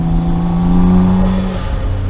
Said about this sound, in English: some gratuitous spooling and blow valve sounds